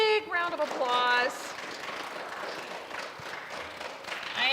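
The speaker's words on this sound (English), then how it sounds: "Can you give them all a big round of applause?" A school audience applauds third grade spelling bee winners, with a burst of clapping that rises briefly and then carries on as a softer spread of claps under a voice.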